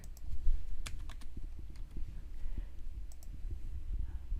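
Close keyboard clicks tap out in quick irregular bursts, a few sharper keystrokes standing out over a soft low hum.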